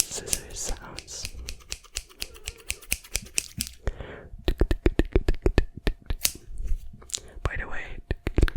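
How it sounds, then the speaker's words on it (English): Rapid crisp metallic snips in quick bursts, close up, with soft whispering between runs of cutting. "Okay, let's do some scissors sounds."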